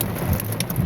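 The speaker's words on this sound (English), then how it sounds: "we have pea-sized hail here" A strong thunderstorm over Reno, Nevada, drops pea-sized hail and rain in a dense, steady patter, with a few brighter ticks standing out over a low background rumble.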